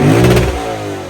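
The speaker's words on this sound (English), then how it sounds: "under the hood of the Lexus RCF Track Edition, you're going to find a 5-liter naturally aspirated V8" A 2023 Lexus RC F Track Edition's 5-liter naturally aspirated V8 blipping in one loud, close rev that peaks quickly and then falls away into a settling hum.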